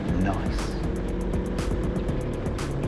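Go-karts race around an indoor track at an arena in Lviv, a steady, loud, continuous engine drone near and all around, with a voice talking over it.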